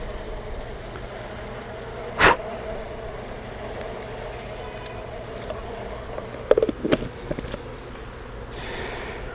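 Honey bees in a jar during a sugar-roll varroa mite check, a low continuous buzzing hum with a few brief louder rattles and knocks over steady background noise.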